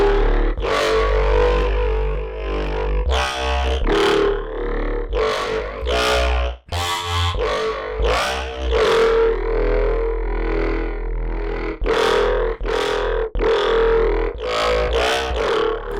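Aggressive growl bass from the Vital synthesizer, heavily distorted, plays alone at steady loud level, with rhythmic wobbling notes cutting in and out in short repeated bursts and gritty, modulated tone sweeps.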